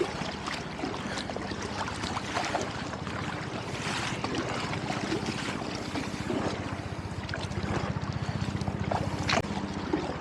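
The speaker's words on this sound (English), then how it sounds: "you can see right here, you know, just some rolling waves from that Circle Line boat" Choppy water from a passing Circle Line boat's wake on the Harlem River sloshes and slaps steadily against a kayak hull, with wind buffeting the microphone throughout and no voices.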